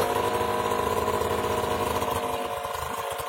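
A Derbi motorbike idles after an engine swap, with a steady, slightly high, buzzing two-stroke idle heard up close and alone.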